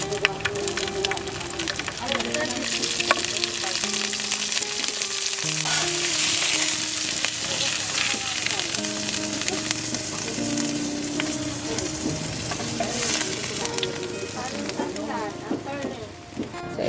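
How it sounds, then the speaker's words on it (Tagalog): Dried fish (tuyo) frying in hot oil gives a steady, dense sizzle and crackle, close and loud throughout, with occasional stirring scrapes and people talking over it. "Tuyo naman ang ating lulutuin."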